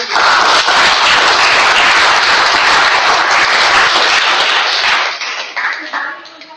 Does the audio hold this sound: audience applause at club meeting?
yes